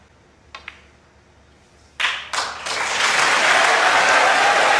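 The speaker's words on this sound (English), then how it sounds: "And they were clapping before the blue went" At the 2022 Champion of Champions snooker final between Ronnie O'Sullivan and Judd Trump, a couple of sharp ball clicks are followed by a sudden burst of crowd applause that swells into loud, sustained clapping.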